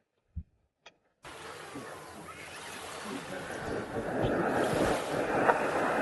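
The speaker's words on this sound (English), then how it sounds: "I just thought I'd give you guys a view of the beach during the day when there's nobody out here." Ocean surf on the empty daytime beach of the Marival Armony resort: a couple of faint taps, then a steady wash of waves and wind buffeting the microphone that gradually grows louder.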